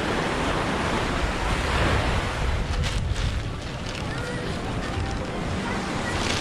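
Waves break and wash along Es Canar beach in Ibiza, a steady loud rush of surf mixed with wind buffeting, continuous across the seconds without pause.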